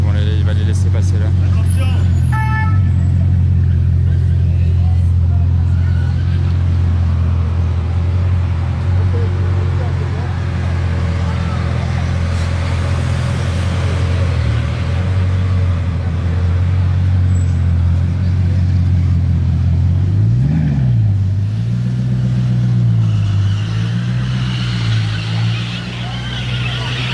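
The engine of a 765 LT supercar in a video game roars as a loud, sustained drone with a sharp rev swell late on, while people talk over it.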